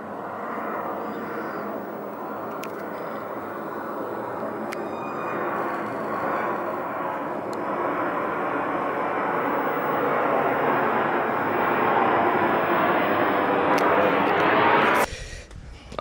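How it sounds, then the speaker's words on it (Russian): A Boeing 737 passes low over a beach, its jet roar swelling steadily louder for about fifteen seconds before cutting off abruptly. "сейчас будет лететь следующий 737, буквально за минуту."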